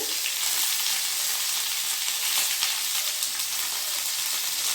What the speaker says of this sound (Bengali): আর গাজর, এগুলোকে আমি আগে দিয়ে দিচ্ছি, আগে দিয়ে একটু ভেজে নিচ্ছি।